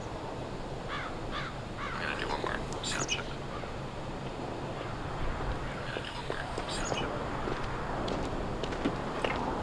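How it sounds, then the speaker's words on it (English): Crows caw several times behind a steady ambient hiss with soft murmuring, birds calling in the background of a fantasy game soundtrack, faint and somewhat distant. "I heard the calling of the birds in the back"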